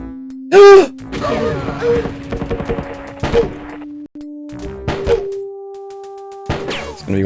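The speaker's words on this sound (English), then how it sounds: "I heard an explosion." Explosion in the video game Jagged Alliance, a sudden loud blast early on followed by quieter thuds, knocks and game tones.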